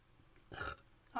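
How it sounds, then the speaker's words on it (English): A single short burp sounds close and moderately loud, followed by the start of another brief vocal sound. "Oh, that was a burp."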